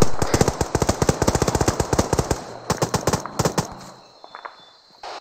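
Rapid automatic gunfire in ArmA3 rattles in quick bursts of sharp cracks, loud and close, then thins into a few scattered shots that fade toward the end.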